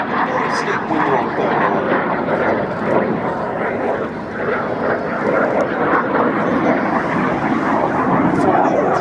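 A Jet Provost jet trainer flies a display at an air festival, its engine giving a loud, steady roaring rush that builds slightly toward the end, with no pauses and a broad wash of noise throughout.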